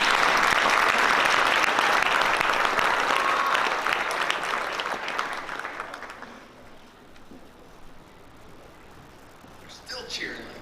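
A banquet audience at an athletic awards night claps loudly and cheers, then the applause fades out after about six seconds and voices follow.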